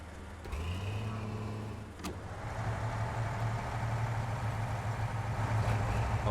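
A truck engine in SnowRunner idles with a deep, steady rumble, dipping briefly and then settling into a slightly louder, continuous low drone.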